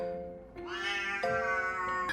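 A cat meows in a drawn-out, rising and falling cry, loud and close, with a second shorter call near the end and no talking over it.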